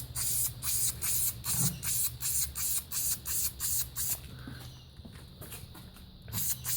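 VHT Wrinkle Plus spray paint hisses from an aerosol can in a run of quick, evenly spaced bursts applied in horizontal passes, close and fairly loud, tapering into a quieter pause before a final burst.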